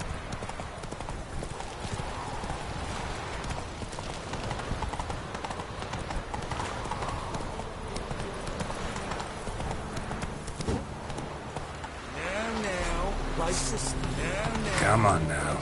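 Roach the horse from The Witcher 3 running with steady, continuous hoofbeat clip-clop throughout, under game music and voices, with a brief whinny near the end.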